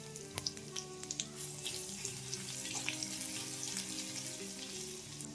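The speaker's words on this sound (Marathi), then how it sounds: "आता तेलामध्ये मोहरी जिरे आणि चेचलेला लसूण घालूया लसूण थोडा परतून घेऊया" Mustard seeds, cumin and crushed garlic sauté in hot oil with a faint, steady sizzle and a few sharp pops early on. There is no talk.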